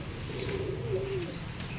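An old-breed pigeon kept by a fancier coos in one low, rolling call, close by, with faint background hiss and no voices.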